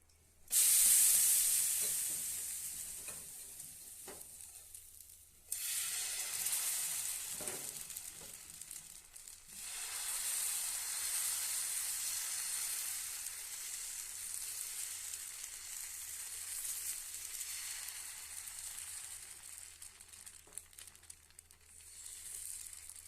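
A mudakathan keerai dosa cooks on a hot pan with a little oil, giving a steady, fairly loud sizzle with bright hissy bursts. It carries on for about twenty seconds, with short pauses where the pan goes quieter.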